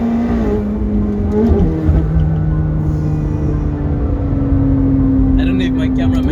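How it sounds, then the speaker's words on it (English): A 900-horsepower McLaren 720S supercar drives past with a loud, sustained engine drone that sweeps in pitch. Voices talk over it, heard from inside a moving Nissan Skyline R34. "the insane 900 horsepower 720S"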